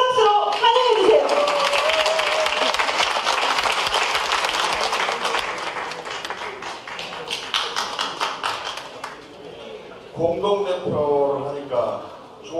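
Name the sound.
audience applause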